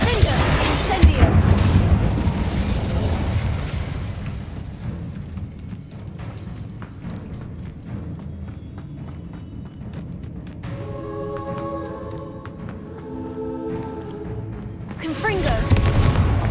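Confringo and Incendio spell blasts in Hogwarts Legacy, heavy booming bursts at the start and end with fiery crackle and game sounds between, under a voice calling out the spells.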